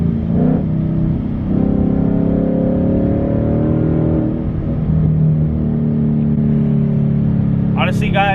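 A Ford Mustang engine revs on downshifts in sport mode, a loud, steady rumbling drone with rising and falling engine pitch heard from inside the car, with a brief sharp sound near the end.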